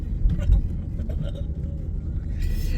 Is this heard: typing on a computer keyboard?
no